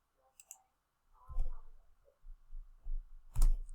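A few isolated key clicks on a computer keyboard while working in AutoCAD, with a short burst of taps and one sharper press near the end, set against quiet room noise.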